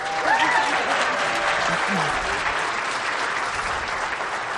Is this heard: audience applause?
yes